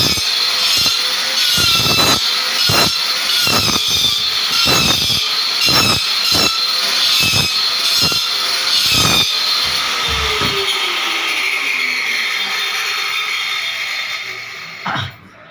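A power tool cuts during installation of a one-piece western toilet, a loud steady grinding whine broken by sharp repeated knocks and scrapes, close and continuous before winding down near the end.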